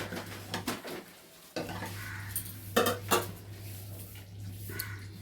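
Spoon scraping and clattering against a korai pan while chicken is stirred, in a few quick clanks over a low steady background hum.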